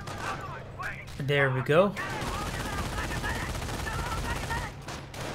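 Machine gun fire from American MG teams in a Company of Heroes 1 battle, rattling in dense bursts beneath steady commentary, with a louder crackling stretch early on.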